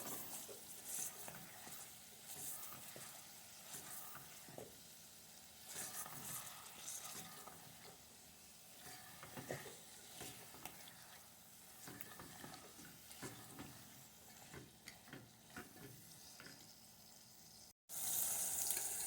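Diced potatoes and green cowpeas are stirred and fried in a pan, a quiet sizzle broken by irregular scraping and clattering stirs. A louder burst of sound ends the stretch.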